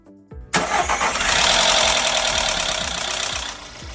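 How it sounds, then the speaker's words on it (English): A car engine with a bad timing belt cranks, fires up and runs loudly up close, a rhythmic ticking knock pulsing beneath its harsh, steady roar. "You're probably wondering what a bad timing belt sounds like."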